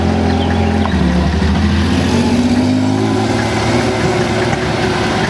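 A vintage 1970 Porsche 911 with a 2.2-litre six-cylinder engine making 125 hp pulls away at a classic car meet, its loud steady engine drone rising slightly in pitch as it accelerates, close and continuous.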